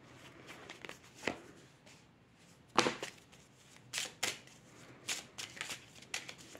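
Tarot cards being shuffled by hand at close range: quiet, papery riffles and flicks arrive in irregular bursts over a soft background, with no talking.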